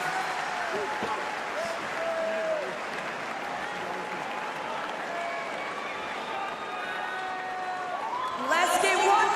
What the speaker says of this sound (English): Let's get one more round of applause for your top 10.